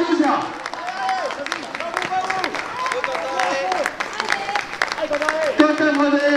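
Crowd applause and cheering for the winner of the 37th edition of the Montreuil-Juigné 10 km road race, steady clapping throughout with an announcer's amplified voice talking over it.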